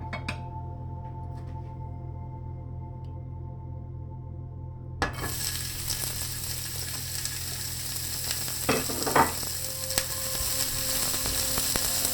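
Chopped onions sizzle steadily in a pan, a soft broadband frying hiss that starts a few seconds in and continues, with occasional light stirring clinks and scrapes, close by with no talk.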